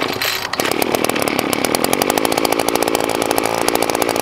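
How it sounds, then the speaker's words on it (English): An Echo SRM-280T string trimmer's small two-stroke engine catches after a pull start and settles into a loud, steady, buzzing idle close by, with no talking. "We should pull it 2 to 3 times and it should turn over."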